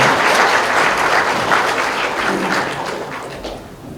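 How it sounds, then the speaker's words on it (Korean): A hall audience at a book launch for the Buddhist monk Jeongnyeom claps steadily and loudly, a dense, continuous wash of applause with no voices over it, easing slightly toward the end. "진중한 시편을 주신 도울 선생님께 다시 한번 박수를 보내드리면서"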